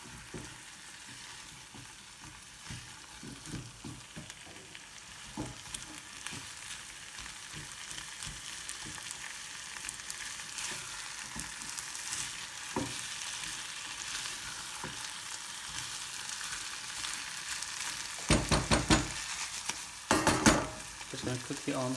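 About 300 grams of potatoes fry and get stirred into a chicken and pepper curry over medium-high heat. The sizzle is steady and close, scraping stirs recur throughout, and louder bursts of crackling come near the end.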